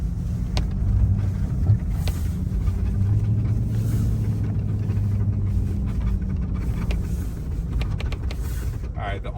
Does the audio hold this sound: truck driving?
yes